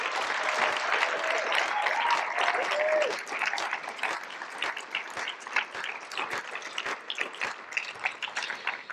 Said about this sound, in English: a round of applause for Suzanne